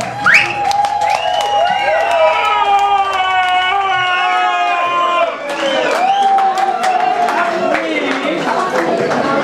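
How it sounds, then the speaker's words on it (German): Audience at a small venue cheering, whistling and shouting in a dense, continuous crowd roar with scattered claps, loud and close throughout, voices rising and falling over it. "Ein Applaus mal hier für den Laden."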